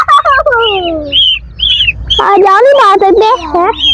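Small colourful chicks cheep with high, rising and falling peeps, several overlapping in quick bursts close by, while a person talks in Hindi.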